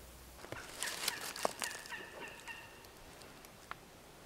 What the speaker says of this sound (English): It wasn't long before Bart struck up a gobbler